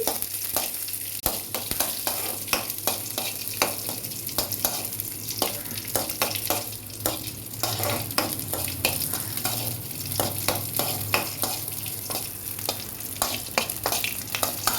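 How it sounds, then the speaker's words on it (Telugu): Green chilies for chutney sizzle and fry in a pan while a spatula scrapes and stirs them in repeated strokes. The frying hiss is steady and close, with no talk. "కొంచెం పచ్చివాసన పోయేంత వరకు ఫ్రై చేసుకున్నాము"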